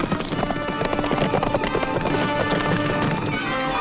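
Many hooves pound in rapid galloping rhythm, a loud, busy clatter with wind noise over it, as horses race close by.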